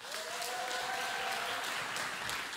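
Audience at a live a cappella concert claps steadily, a dense patter of many hands filling the room, with a faint sustained voice tone drifting underneath near the start.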